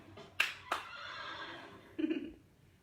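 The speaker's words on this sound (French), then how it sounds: "Le beau cheval." A horse neighs in a short, whinnying call, with two sharp opening bursts followed by a shaky, fading trail. It sounds faint and somewhat distant.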